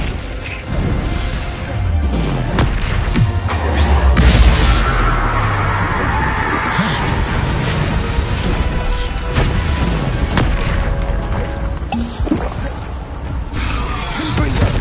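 Bombarda and Confringo explosion spells go off in the Hogwarts Legacy video game, giving repeated booming blasts and crashes over a dense, continuous wash of combat noise for the whole stretch.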